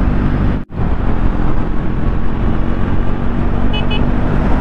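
Triumph Speed 400 motorcycle with a slip-on exhaust riding along a road, a steady loud engine and road drone filling the whole stretch, briefly cut out near the start, with a faint short horn-like toot later.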